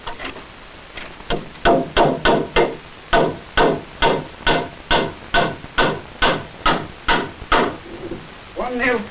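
Hammering nails into a wooden beam for a 1960 family fallout shelter, a steady run of about fifteen sharp, evenly spaced knocks up close, followed by a brief voice at the end.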